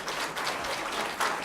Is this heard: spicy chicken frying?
no